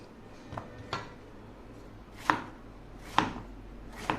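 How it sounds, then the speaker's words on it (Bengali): Knife chopping snake gourd into thick pieces on a board, with several distinct sharp thuds spaced irregularly, fairly close and moderately loud against a quiet kitchen background. "সেই জন্য একটু মোটা মোটা করে কেটে নিচ্ছি"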